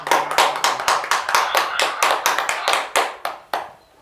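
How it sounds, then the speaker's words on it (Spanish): A church congregation claps in a quick, rhythmic series of sharp, close hand claps during a Spanish-language sermon. The claps space out and stop near the end, with no talking over them. "Aplauso a Dios, porque Dios es bueno."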